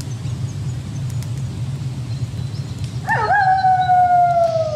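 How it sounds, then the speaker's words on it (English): A creature's long rising-then-falling howl in the horror game Folklore Hunter, Wendigo-themed, entering late over a low ambient rumble with faint clicks, loud and drawn out to the end. "Oh, I hear him howling."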